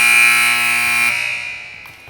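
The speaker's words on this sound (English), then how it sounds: "and there's the buzzer." A loud, sustained electronic buzzer blares steadily, then fades away over a couple of seconds with faint background noise underneath.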